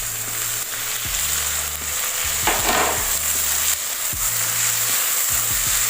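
Onion, garlic, chili and tomato sizzle loudly in a pan for a butter chicken base, with a steady frying hiss broken by repeated scraping stirs of a utensil against the pan.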